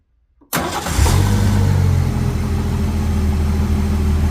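An old truck engine with a freshly cleaned carburetor cranks and catches after a half-second of silence, then settles into a steady, loud, close idle with a low rumbling tone.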